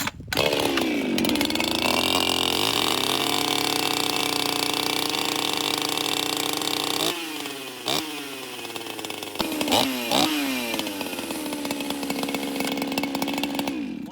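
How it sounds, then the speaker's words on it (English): A chainsaw, started cold on a chilly morning, runs at a loud steady idle, then is revved in several sharp bursts that rise and fall, close by. "This is cold starts on all of these saws."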